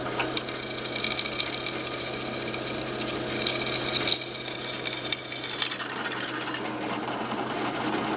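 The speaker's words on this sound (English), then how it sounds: "Now it's doing a nice job drilling through this plate steel." A freshly sharpened drill bit bores through plate steel without a center punch, giving a steady, close grinding whir with metallic ratcheting texture that holds level throughout and carries no talk.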